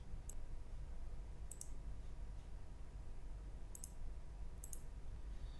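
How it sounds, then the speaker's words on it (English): A few sharp, faint clicks, like a computer mouse or key press in a quiet room, come in small separate pairs over a steady low background hum. "here I can click or I can press F11 for the simulation"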